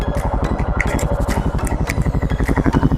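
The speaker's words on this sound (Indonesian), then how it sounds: "Nah, kalau suara gebernya boleh." A Yamaha XMAX 250 scooter engine with a loud, throaty aftermarket exhaust idles roughly and blips its throttle, pulsing rapidly and close by.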